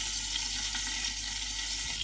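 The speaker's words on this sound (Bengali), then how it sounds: "একটু হাত দিয়ে ধরে ধরে এই জিনিসটা ফ্রাই করে নিতে হবে।" Chicken-stuffed eggplant sizzling steadily in a pan over a medium flame, a constant close frying hiss with no voices.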